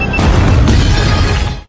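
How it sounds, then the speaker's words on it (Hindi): A ceiling-mounted bomb explodes with a loud, broad crash and a blast of debris, the roar sustained for over a second before cutting off abruptly. "धमाका कर देती है, जिससे रशियन प्रेसिडेंट नीचे टनल में आ गिरते हैं"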